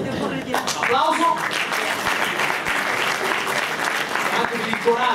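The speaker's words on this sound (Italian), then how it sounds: "Ilaria Calabrese, un'altra donna. Applauso." Audience applause at a political gathering, clapping spread across the clip with speech mixed in over and between the claps.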